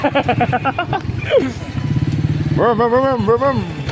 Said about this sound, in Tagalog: Naka Big Bike yan si Kuya Alvin.